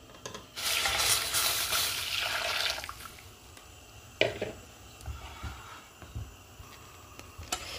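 Hot milk mixture for eggless crème pâtissière is stirred in a pan, a steady close swishing and liquid churning for a couple of seconds, followed by quieter scattered clinks and scrapes.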